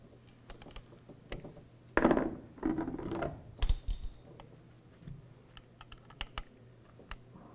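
Small screws being threaded by hand into the plastic tailgate of a 2007-2013 Chevrolet Silverado 1500 while a camera is fitted, heard as faint clicks and scrapes with a few louder rattling bursts of handling in the middle.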